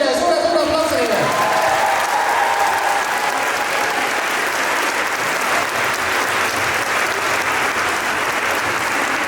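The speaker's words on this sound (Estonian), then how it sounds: "Palju õnne ja teeme veel suure aplausile." Sustained audience applause fills a hall at a school creative dance competition, steady dense clapping from start to finish, loud and close, with a brief voice at the very beginning.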